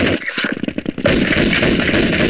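Gunfire in Counter-Strike 1.6 played against bots, a loud, dense burst of rapid shots, briefly choppy and then a sustained roaring blast of continuous fire filling the rest of the moment.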